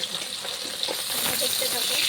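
Fish frying in hot oil in a home kitchen, half-fried before being cooked into a paturi dish: a steady, soft broadband sizzle that holds throughout, with faint crackles and a voice speaking over it.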